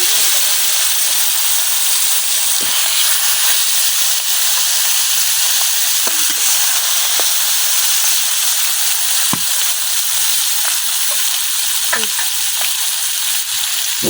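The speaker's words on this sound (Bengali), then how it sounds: "তেল গরম হয়ে গেছে, এখন আমি মাছগুলো দিয়ে দিতেছি।" Koi fish frying in hot oil in a village kitchen wok, a loud, steady sizzle and hiss with occasional sharp pops and crackles, no talk.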